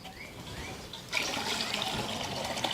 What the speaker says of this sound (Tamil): இப்ப இளநீக்குள்ள ஊத்திக்கலாம். ஊத்துங்கோ.